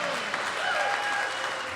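Studio audience applause, a short burst of steady clapping from a small crowd, fairly close and even throughout.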